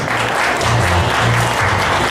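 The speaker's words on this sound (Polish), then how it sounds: "Z numerem 7 Julia, Tonderska, duże brawa." Loud, sustained audience applause at a children's mini miss and mister pageant final, dense clapping from many hands filling the room at close range.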